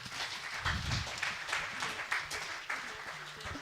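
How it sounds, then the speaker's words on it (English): Conference audience applauding a minister in a hall, a steady wash of many hands clapping at moderate distance for several seconds, with faint murmurs underneath. "I think the Honorable Minister deserves a bigger clap."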